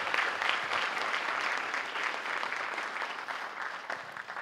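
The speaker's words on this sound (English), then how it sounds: "so we'd like to clap it up for that" Audience applause for a student athlete at a school news event, a sustained, even clatter of many hands clapping at moderate volume that slightly thins toward the end.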